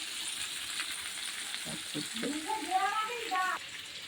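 Vegetables fry in a pan with a steady, close hiss of sizzling oil, and a voice speaks briefly over it in the second half.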